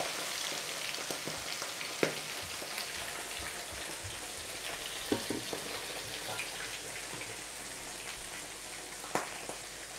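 Red snapper frying in hot oil for a Jamaican brown stew, giving a steady dense sizzle and crackle with a few sharp pops, close and continuous, with no talking.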